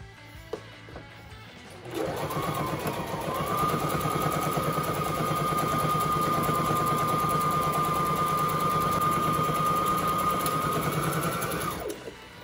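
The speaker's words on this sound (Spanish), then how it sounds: "vamos a elaborar la puntada número 3, que es el zigzag" A sewing machine stitching a zigzag pattern runs steadily and loudly for about ten seconds with a fast, even whirring rattle, starting abruptly after a quiet lead-in and stopping near the end.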